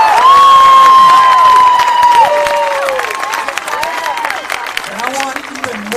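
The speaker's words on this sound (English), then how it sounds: "put your hands together for all the men and women that put the badge on every day." Crowd at an Arizona statewide protest rally cheering and clapping for police officers, a loud mass of voices and applause that stays dense throughout, with a high whistle-like tone sliding through the din.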